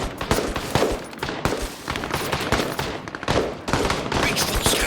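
Return gunfire in a video game, with repeated loud bursts of shots crackling in uneven clusters, some close and punchy and others trailing off, sustained across the whole stretch.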